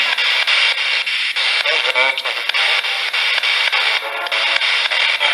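A ghost-hunting radio sweep during a night session in a house fills the clip with continuous loud hiss and static, choppy as stations flick past, with faint fragments of voices buried in the noise.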